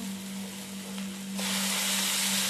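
Ground onion, garlic and cumin paste drops into a frying pan of onion and tomato for a river-fish curry, and the steady sizzle surges louder and brighter midway as the paste hits the hot oil; no one speaks.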